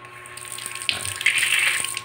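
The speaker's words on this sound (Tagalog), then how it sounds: "Binuksan natin yung tubig para makita yung kung may leak siya talaga o wala." Water runs from a temporary tap being tested for leaks during bathroom and sink plumbing work, a steady close hiss of flowing water that grows louder after starting, over a faint electrical hum, with no talking.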